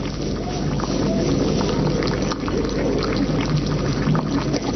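Water gushes continuously into a flask during an ammonia fountain chemistry experiment, a loud, dense, steady splashing rush that holds without a break from start to finish.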